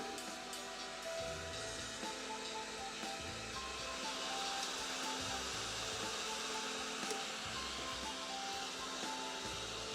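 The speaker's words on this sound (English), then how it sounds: "think about not to set the temperature of the heat gun too high" A heat gun blows hot air to soften and peel stickers off the case of a Commodore 1541 floppy drive, giving a steady, close, continuous whooshing roar throughout.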